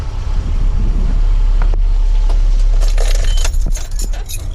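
Keys jangle with a few sharp metallic clinks as a truck is switched off, its engine's low rumble running steadily underneath until near the end.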